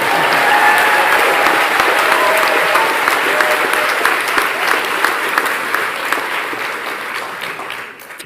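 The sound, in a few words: audience applause at graduation ceremony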